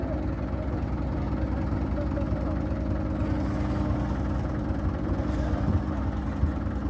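A small tractor works a corn silage field, its steady mid-pitched engine drone running continuously at a moderate distance with no talk over it.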